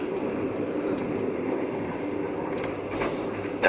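Steady rumble and rattle inside a moving first-class sleeper car on a Thai train, with continuous track noise and a few faint squeaks and clunks throughout.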